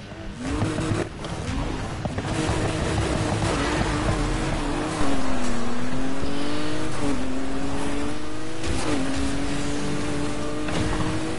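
A car engine revs hard in a racing video game, its pitch climbing and dropping through repeated gear shifts, loud and continuous with faint tire noise and no talking.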